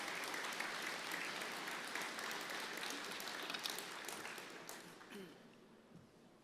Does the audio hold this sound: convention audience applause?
yes